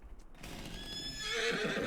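A horse in the farming game Farming Simulator 25 gives a rising whinny while its hooves clop softly, the neigh swelling louder toward the end with no talk.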